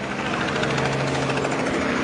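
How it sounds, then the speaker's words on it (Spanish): A helicopter flies low over brushland outside a prison in Santo Domingo, giving a steady, loud rotor and engine drone with a constant hum and no talking. "El helicóptero vuela muy bajo, vuela muy bajo el helicóptero por la maleza existente."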